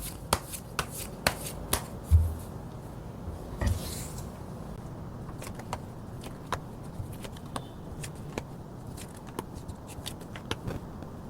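Tarot cards are shuffled and drawn, giving a run of soft riffling and sharp little card snaps and taps that recur irregularly at close range over a quiet background, with no talking.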